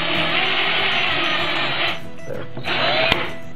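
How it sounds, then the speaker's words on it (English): A power drill whines steadily and loudly, grinding through steel, with a brief drop in pitch partway before resuming. "try to drill a hole through one of these pieces of steel"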